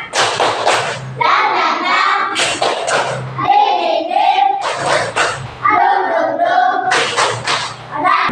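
A class of children does a rhythmic spirit clap, loud, close claps and thumps in patterned bursts with chanting voices between them.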